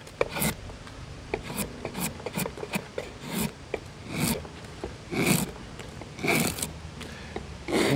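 Drawknife blade carving and slicing into wood in short scraping nibbles, a string of close rasping strokes at an uneven rhythm with no talking.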